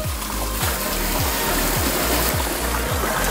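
Water flows steadily to drive a water-powered carousel, a loud continuous rushing with a regular rhythmic thumping pulse repeating about every half second, heard close with no talk.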